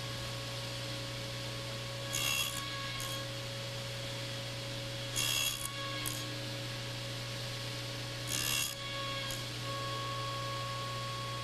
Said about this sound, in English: I cut the shoulder in a series of passes.